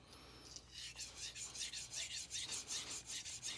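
A Shirogami 2 santoku knife is stroked across a sintered ruby whetstone, producing quiet, close, rhythmic scraping passes about every third of a second.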